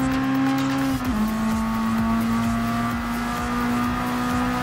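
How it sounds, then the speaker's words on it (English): Race cars on a highway in Gran Turismo Sport scream past with a sustained high engine whine that dips in pitch as a gear changes, loud and continuous. "Then there's several of the rest of the cars coming in on the other side of the highway."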